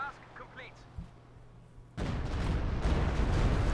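Heavy gunfire from a unit in Company of Heroes 2 erupts after a quiet stretch, a sustained loud rumbling barrage that fills the second half.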